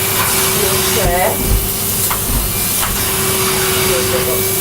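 A loud, steady vacuum cleaner hums and hisses as it hoovers pet fur from a chair, and a voice talks briefly beneath the roar.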